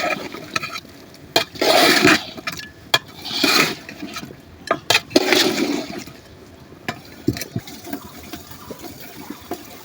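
Chicken pieces go into hot, spicy masala in a village kitchen pot for a fiery chicken bhuna, with bursts of sizzling and watery bubbling and the clatter of pot and utensils.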